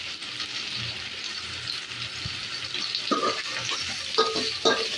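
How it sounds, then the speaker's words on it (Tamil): Onions sauté and get stirred in a pan for chicken curry, giving a steady sizzle with a few scraping stir sounds near the end. "நடுவில் நடுவில் கிளறி விட்டுக்கோங்க அப்போ தான் வெங்காயம் மொத்தமாக நல்லா வதங்கி வரும்"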